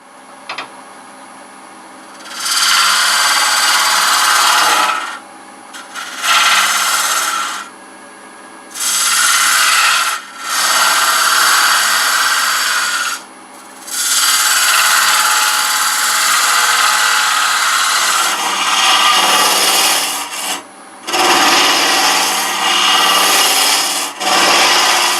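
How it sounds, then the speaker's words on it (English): Norfolk Island pine on a lathe being hollowed with a straight-bar hollowing tool, giving loud scraping, hissing cuts in several bursts of a few seconds each, separated by quieter gaps where the lathe keeps humming. "I'm just going to widen this hole, open up this cavity a little bit before I change cutters."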